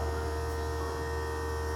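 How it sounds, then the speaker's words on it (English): The vacuum pump inside an AromaLoc fermentation machine runs with a steady, continuous electrical hum and drone, even and unchanging throughout with no talking. "you should immediately hear the vacuum pump inside the machine start running"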